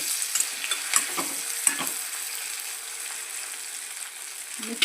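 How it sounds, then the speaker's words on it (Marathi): Boiled potatoes stirred into a frying pan for sabudana khichdi, soft sizzling under a series of spatula scrapes and taps against the pan, close and fairly quiet, with a thump at the end. "असे बटाटे टाकून ते चांगले मिक्स करून घ्यायचे।"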